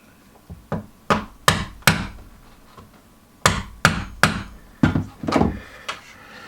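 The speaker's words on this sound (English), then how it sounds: "we just get a nail and a hammer and we just literally just knock it out" Sharp hammer strikes on a nail used to knock out a stuck pin on a van ring out in uneven bursts, a few quick blows, a pause, then another cluster of hits, close and loud.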